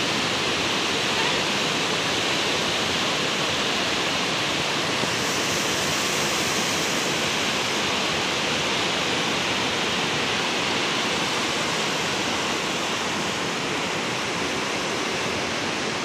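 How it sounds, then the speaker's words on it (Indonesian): River water rushes steadily beneath a bridge on the border of Pekalongan and Pemalang, a dense, constant broadband flow with no voices. "Ini tuh sungai perbatasan Pekalongan dan Pemalang"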